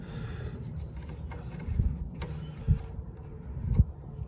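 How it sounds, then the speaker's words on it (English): Someone loosens the hose clamp that joins the air filter to the carburetor on a John Deere 1200A. A few faint metallic clicks and ratcheting ticks come through over a low background rumble. "Go ahead and loosen the hose clamp that attaches the air filter to the carburetor."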